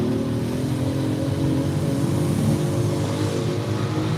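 Loud engine from a vehicle on a city street beside a local market in Cambodia, revving roughly in a steady close roar with a rattling, poorly maintained tone. No one speaks.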